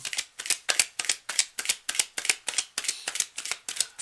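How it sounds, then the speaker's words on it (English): Tarot cards being riffle-shuffled close up, a quick regular series of about a dozen crisp fluttering bursts with no voices. "I'm just doing the last moment shuffle here."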